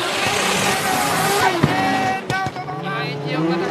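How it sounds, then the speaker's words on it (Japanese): Drift cars revving hard during a D1GP battle between two brothers, loud continuous engine roar with rising pitch sweeps and sharp bursts, under excited commentary. "今エンジン音が高鳴る、この兄弟対決、 今度は末永直人が前、 後ろから末永雅夫、"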